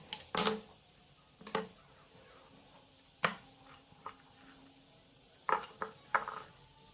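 Croissant dough being cut on a work surface with a knife, a handful of short irregular taps and knocks spaced apart in a quiet kitchen, faint overall.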